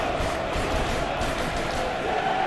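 Stadium crowd in PES 2021 football match, a steady dense roar of many voices at an evening game, continuous and moderately loud throughout with no distinct peaks.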